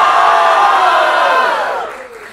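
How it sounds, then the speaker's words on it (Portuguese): A crowd at a street rap battle roars and whoops in a loud sustained cheer that swells, holds for a couple of seconds, then fades away. "Barulho para as rimas de Maria."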